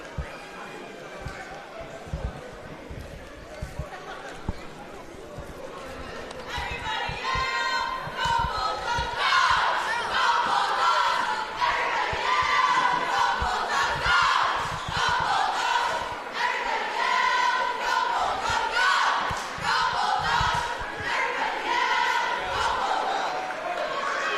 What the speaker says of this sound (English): here are the Lynn Bulldog cheerleaders, and we'll be right back after their little cheer